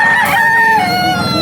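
A young rooster (stag) at a poultry seller in Bocaue, Bulacan gives a single loud, close crow with a rising then falling drawn-out call.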